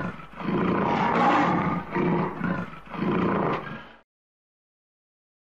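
Lion roaring, a deep throaty roar followed by a series of pulsing grunts, loud and close, then silence.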